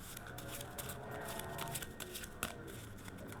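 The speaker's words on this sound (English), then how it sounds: "let's shuffle like this a little bit" A deck of playing cards is shuffled by hand, giving quiet, continuous riffling and flicking close up with a few sharper snaps.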